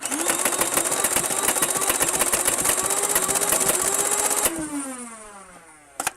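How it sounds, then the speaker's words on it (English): Flywheels of a Dart Zone Quantum foam-dart blaster spin at a steady high-pitched whir for several seconds, then wind down with a falling tone, followed by a brief click near the end. "whenever you pull it slightly, it will rev the flywheels"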